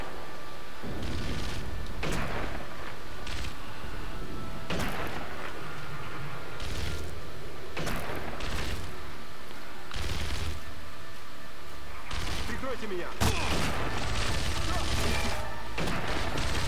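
Gunfire and heavy impacts in the Sniper Elite V2 video game, with several sharp, loud bursts spread across the scene over a steady noisy background and someone talking in between.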